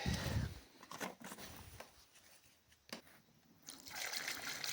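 Petrol trickling and splashing into the fuel tank of a Suzuki GSX-R 600 motorcycle during a fuel-delivery repair, a close, uneven pour in short bursts with a quieter stretch in the middle before the flow picks up again.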